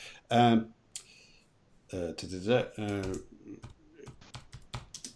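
Rapid clicking keystrokes on a computer keyboard follow a man's speech, a quick run of light taps close by near the end.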